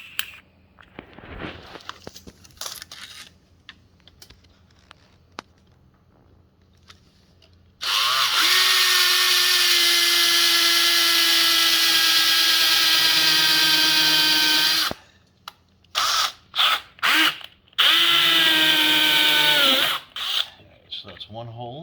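A power drill bores holes through plastic while mounting a Tesla Gen 3 Wall Connector. It whines in one loud, steady stretch of about seven seconds, then several short bursts follow, with quieter handling noises before it.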